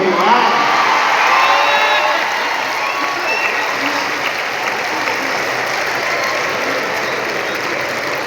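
A large audience at a poetry gathering (kavi sammelan) in Patna breaks into loud, dense applause with a few shouts, swelling at first and then settling into a steady sustained roar.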